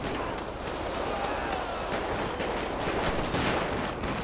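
Dense, continuous gunfire in a GTA 5 police gang-unit shootout, loud and sustained with overlapping shots and bursts throughout, with a voice faintly mixed beneath the din.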